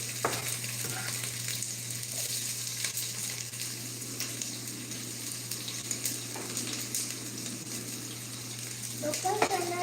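Onions sizzle softly in a pan as they soften, a steady low frying hiss with a few faint clinks, close but quiet and continuous throughout.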